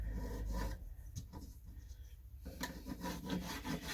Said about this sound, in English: And then we rasp it from there